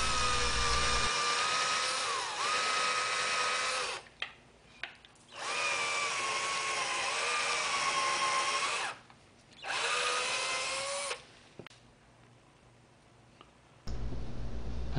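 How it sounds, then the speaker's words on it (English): A power drill runs in several loud, sustained bursts separated by short pauses, its pitch shifting slightly as it bores, with a few clicks between runs. "Now it's time to drill the 1/4 inch holes for the 1/4 inch screws."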